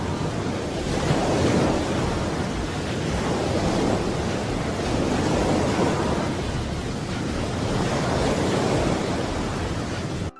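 Monstrous storm waves on the open ocean, with a waterspout nearby, make a loud, unbroken roar of surf and wind that surges in slow swells for about ten seconds.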